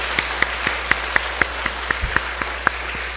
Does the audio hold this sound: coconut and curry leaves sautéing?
no